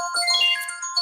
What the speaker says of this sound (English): I was going to tell you to turn off your phone